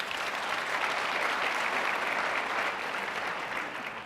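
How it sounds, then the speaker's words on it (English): A conference-room audience breaks into sustained applause for an instant show-of-hands poll, a broad, dense wash of many hands clapping together for about four seconds before easing off slightly at the end. "Clap if you think Marriott should get heavy into home sharing."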